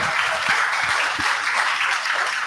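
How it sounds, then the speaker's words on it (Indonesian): A crowd applauds continuously, a dense even wash of clapping at steady loudness throughout. "Ayo tepuk tangan semuanya ya."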